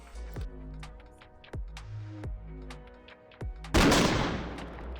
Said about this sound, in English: each gun sound delivering a satisfyingly meaty punch